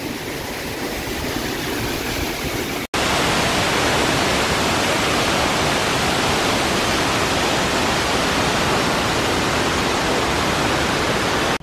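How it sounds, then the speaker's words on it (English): The Jezin waterfall rushes as a loud, dense, continuous roar of falling water filling the whole stretch, broken only by a brief cut near the start. "Most likely when the snow melts, the Jezin waterfall is even flowier"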